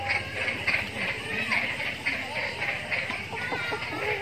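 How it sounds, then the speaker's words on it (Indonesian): Chickens, including laying hens, cluck in a coop on a farm in Serui, Papua, a busy overlapping chatter close by, mixed with someone talking over them. "Ini isinya ayam, guys."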